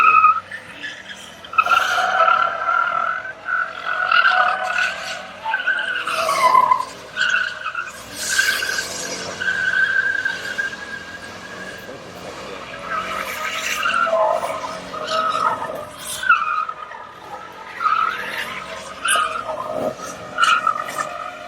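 Tires squealing and skidding as a rented U-Haul truck does a burnout at a car meet, one wheel not spinning from a damaged differential; long screeching bursts rise and fall over engine roar, with a few voices in the background.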